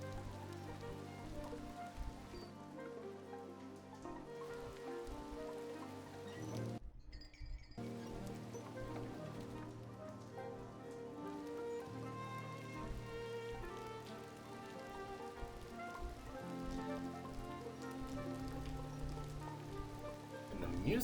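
Steady rain patter over a layered musical backdrop in the video game The Midnight Walk, continuous and moderately loud, with a brief dropout partway through.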